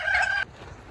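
A single short, bright clucking call comes from a chicken on a farm where chickens are kept alongside pigs. It is fairly close and cuts off abruptly into quiet background.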